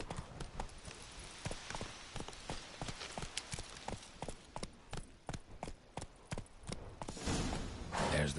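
Geralt's horse Roach from The Witcher 3 walking, with a steady rhythm of crisp, close hoof clip-clops against faint ambient background and a soft rush of sound at the end.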